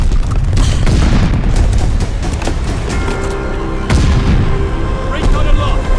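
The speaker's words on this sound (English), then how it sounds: "Mortars ready to bracket!" Heavy artillery and mortar fire in the World War II shooter Call of Duty: Vanguard, loud booming blasts and rumbling bursts that come in several waves, with game voices calling out over the barrage.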